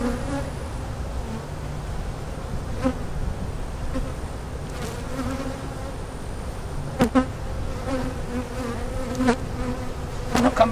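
A dense, steady buzzing of many honey bees fills the air, close and constant, with occasional sharper clicks and knocks from the hive.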